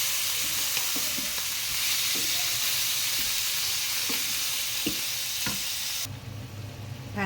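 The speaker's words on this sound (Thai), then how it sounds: "เติมน้ำนิดหน่อยค่ะ ผัดต่อ ผัด" Minced pork with pickled bamboo shoots sizzling in a pan during stir-frying, a steady loud hiss with repeated scraping and knocking strokes of the spatula, the sizzle softening near the end.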